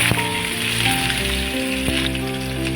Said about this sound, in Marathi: त्यामध्ये आपण तेल टाकलेले तेल आपलं मस्त तापलेले त्यामध्ये आपण टाकूया जिरं मौरी त्यामध्ये आपण टाकूया कांदा